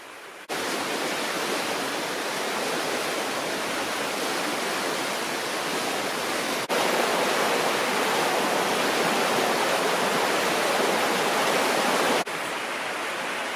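River water flows through a Dartmoor forest, a steady broadband rush of moving water heard close and continuous throughout, with a slight shift in level partway through and no voices.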